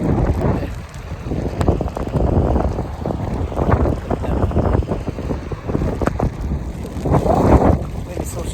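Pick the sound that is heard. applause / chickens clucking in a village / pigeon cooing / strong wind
strong wind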